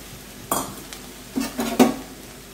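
Ponnanganni greens tossed with grated coconut in a pan over low flame, a few short scraping stirs and soft clinks of a spoon against metal, close and distinct, with quiet gaps between.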